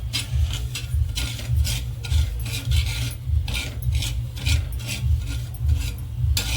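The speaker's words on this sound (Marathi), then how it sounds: "आता ही वरई आपण एक दोन मिनटावर थोडीशी भाजून घेऊया" Barnyard millet (varai) dry-roasting on a hot tawa, stirred with a run of rhythmic scraping, rasping strokes over a steady low hum.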